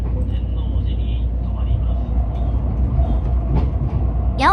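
A commuter express train runs between Nara and Osaka, a steady low rumble inside the car with occasional rattles and a brief squeal at the end, under an onboard announcement voice.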